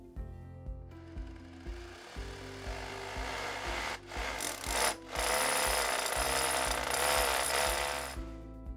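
A power drill bores a hole through a cavity wall for a fan's power cable, a steady grinding whine under a low mechanical hum that dips briefly midway, then resumes at full strength.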